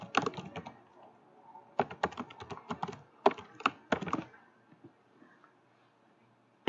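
Soft clusters of keystrokes on a computer keyboard come in short irregular bursts with quiet pauses between, close and fairly faint in a quiet room.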